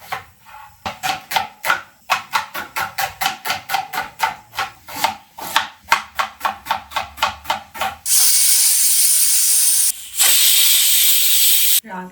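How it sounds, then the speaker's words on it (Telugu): Rapid rhythmic scraping strokes, then a loud, steady rush of steam hissing from a pressure cooker, briefly cut off and then resuming. "ఒక త్రీ విజిల్స్ అయితే పెట్టేస్తాను"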